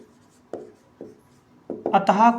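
Chalk or marker strokes on a board by a teacher, a few separate scraping taps at first, then a voice speaks close by over further strokes.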